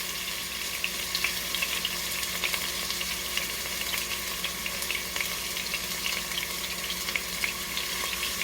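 Meat for birria tacos sears in a hot pan, a continuous dense sizzle and crackle with tiny pops, close and steady throughout with no voices.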